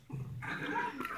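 A dog, a female beach dog playing with a frisbee, lets out a short whining yip and bark burst, close and fairly loud, with no talk over it.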